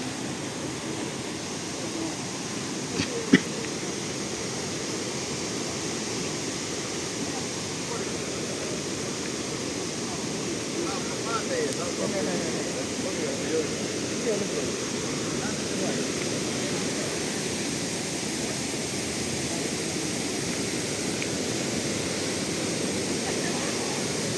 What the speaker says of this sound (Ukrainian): Е, річка Прут і водоспад пробій.